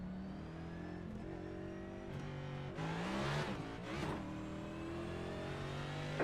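A NASCAR stock car engine drones steadily in the iRacing video game at Atlanta Motor Speedway, with rising revs and other cars roaring past mid-race, all at an even, moderate level.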